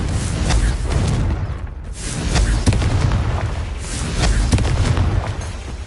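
Confringo fire spell blasts in Hogwarts Legacy, a string of loud booming bursts and crackling impacts repeating over a dense rumbling background, with no talking.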